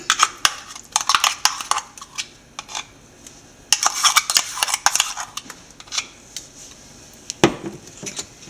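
Ground paste is scraped out and added to a mackerel and mango curry pot, with bursts of sharp metallic clinks and spoon scrapes against the vessel, close up and without talk.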